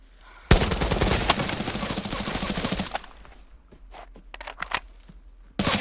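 Automatic gunfire in the video game Arena Breakout Infinite: a loud sustained burst of rapid shots, then scattered sharper single cracks and another burst starting at the end.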